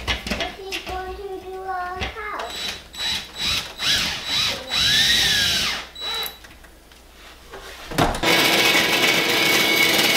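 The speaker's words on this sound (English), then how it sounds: "I'm going to throw in one more structural screw at the stud." A power drill driving a structural screw into a wall stud, with short bursts of whirring and ratcheting at varying speed, close and loud.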